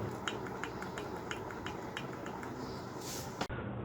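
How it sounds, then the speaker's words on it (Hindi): Loose piston knocking inside a worn engine cylinder, a faint, steady, rapid ticking over a low engine hum, with evenly spaced light taps that end in a sharp click. "पिस्टन सिलेंडर में लूज है और ये इस तरह से सिलेंडर में टकराता रहता है"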